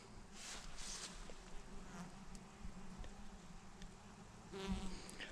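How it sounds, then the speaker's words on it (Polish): Honeybees buzz steadily around raspberry plants, a soft layered drone with insects now and then passing closer. "Pszczoły też na malinie szaleją."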